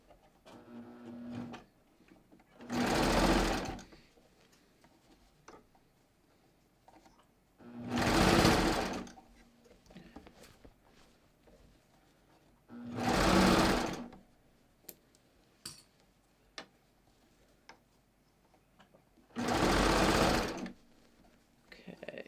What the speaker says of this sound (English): Trying not to stretch the hem as I sew it.